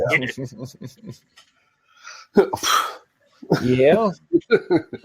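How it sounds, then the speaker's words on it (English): A short, sharp sneeze bursts out between stretches of close conversation, with people talking before and after it. "that was like the most feminine sneeze I've heard in a long time"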